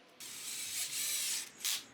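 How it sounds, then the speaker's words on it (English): A power driver whirs in short bursts driving screws into plywood, two longer runs and a brief final spin, fairly close and with no talking. "I then screwed in all the legs and support pieces to the plywood."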